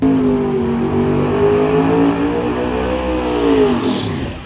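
A Mustang drag car at drag racing week makes a loud, close pass, its engine note climbing steadily through the gears with a broad, harsh roar before fading at the end.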